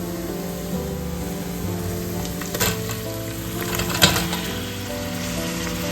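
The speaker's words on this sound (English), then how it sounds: "Keep stirring until the onions are soft and transparent." Finely chopped onions saute with ginger, garlic and slit chilies in a pan for a Kerala-style soya and Chinese potato ularthu, a constant close sizzle broken by two sharper stirring scrapes.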